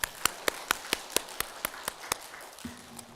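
Congregation in a Korean church clapping in steady unison for the choir, a run of crisp, evenly spaced claps that fades out, followed by a faint sustained tone.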